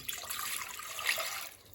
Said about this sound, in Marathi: पाणी घातलेलं आहे